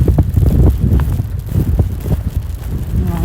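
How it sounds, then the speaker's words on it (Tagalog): A strong, cold outdoor wind buffets the microphone in loud, uneven gusts, rumbling and rustling continuously with no clear talk. "Ang lakas ng hangin."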